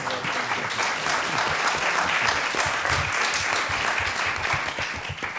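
At a conference discussion on free expression on the internet, the audience applauds. The clapping is thick and steady, staying at a constant, moderately loud level throughout.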